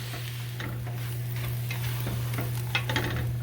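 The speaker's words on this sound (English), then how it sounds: "we'll just start to mix the marshmallow with the hot butter" Marshmallows being stirred into hot melted butter in a pot, giving a soft continuous sizzle with light scraping and faint ticking spoon strokes, steady and close, with no voices.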